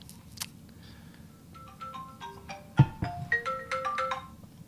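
A mobile phone plays a melodic ringtone of bright, stepped electronic tones that grow louder, over a low background hum and a brief thump, with no talking.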